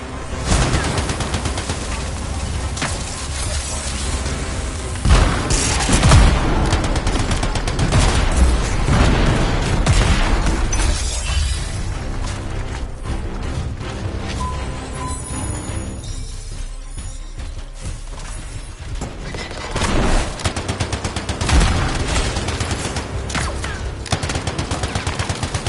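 Dense video game gunfire rattles for the whole stretch, near and loud, with sustained bursts of automatic and machine gun fire and occasional heavier booms.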